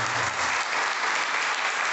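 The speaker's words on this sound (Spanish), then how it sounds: "Denle un aplauso al Señor." A church congregation applauds with steady, dense clapping that holds evenly throughout without voices.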